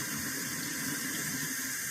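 A tap runs steadily as warm water flows into a sink, a constant rushing hiss that fills the whole stretch without any talk.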